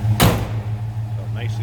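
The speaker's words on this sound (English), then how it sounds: "Nicely that door closes." The door of a 1967 Chevrolet C10 pickup truck shuts once with a solid, close thump over the steady low hum of its idling V8.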